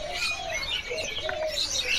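Caged songbirds and doves chirp, tweet and coo inside a bird shop in Indonesia, a steady, moderately loud chorus of overlapping calls with no talking.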